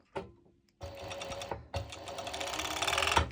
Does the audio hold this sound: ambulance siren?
no